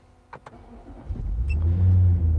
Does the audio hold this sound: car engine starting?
yes